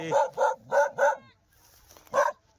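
A dog barks sharply four times in quick succession at a spectacled cobra, close by, then pauses before one more loud bark.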